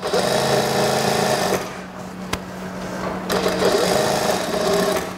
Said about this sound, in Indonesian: Kita jahit lagi sisi karet elastis yang satunya lagi.